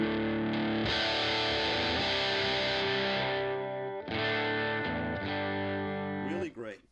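Heavily overdriven electric guitar chords through an Electro-Harmonix Hot Wax dual overdrive pedal ring out thick and saturated, sustaining for several seconds before a brief break and another distorted strum.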